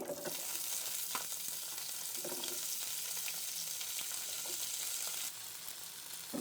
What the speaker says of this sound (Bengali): এগুলো একটু ভালো করে একটু হালকা ভাজা ভাজা করে নিচ্ছি